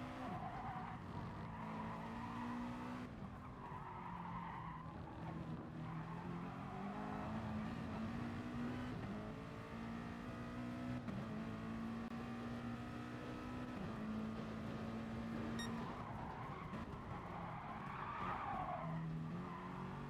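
Race car tires squealing under understeer in GT Sport, a long wavering screech over a continuous engine drone with rising and falling pitch, steady and fairly faint throughout.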